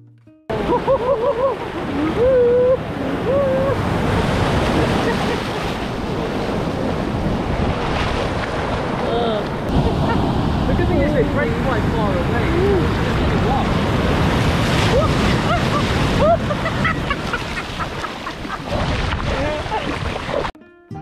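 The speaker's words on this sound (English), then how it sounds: "The beach here in San Pancho is beautiful." Ocean surf rushing and breaking continuously on the beach at San Pancho, Mexico, mixed with heavy wind noise, loud and close throughout, with a brief voice near the beginning.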